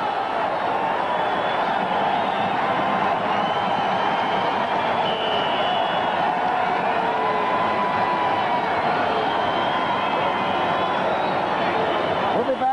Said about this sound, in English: The crowd is roaring as Jim Hart comes in the game.